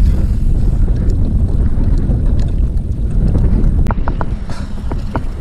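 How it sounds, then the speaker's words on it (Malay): Wind picks up over the sea during kayak fishing in Malaysia, a loud, steady rush of wind buffeting the microphone, with a few faint knocks near the end. "Angin dah start datang ni."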